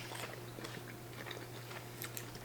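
Chicken nuggets chewed quickly and close up, a rapid run of soft, faint crunchy bites over a low steady hum, with no talking.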